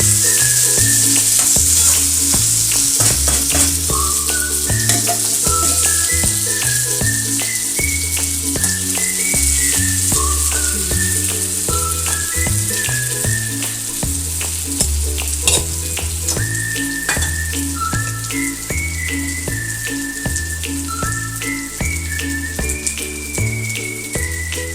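Raw mango pieces frying with turmeric, salt and chili, a constant loud sizzle and stirring under a prominent melodic backing tune with steady beats throughout, no voices.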